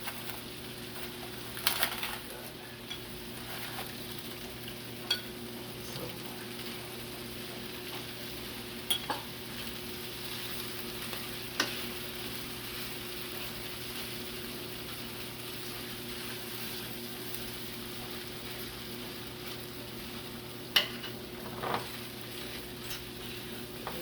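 Corned beef fries in a pan while Jamaican dirty cabbage is made, giving a steady, soft sizzle with occasional light scraping and clicking from stirring; no one speaks.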